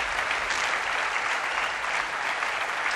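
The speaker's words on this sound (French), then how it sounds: "Applaudissements, bien évidemment." A studio audience claps steadily and densely for the full three seconds, a loud, even wash of applause with no voices on top.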